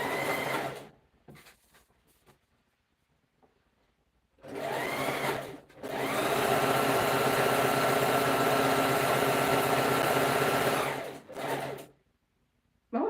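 A sewing machine whirs in short bursts, then runs steadily for about five seconds before stopping, a close, even mechanical hum and rattle sewing a scarf, with quiet pauses between runs.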